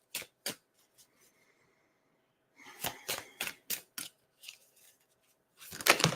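Guardian angel oracle cards shuffled by hand in a quiet room: a couple of quick riffles, a pause, then a run of sharp papery flicks and slaps, ending in a louder, denser burst of card noise.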